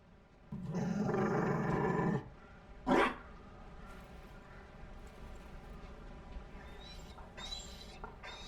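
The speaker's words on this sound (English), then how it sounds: "You found a dog? They don't breed Mabari in Olay." A Mabari war dog from Dragon Age: Inquisition lets out a sustained growling roar for well over a second, then a short sharp bark, before fading into quiet game ambience with faint chirps.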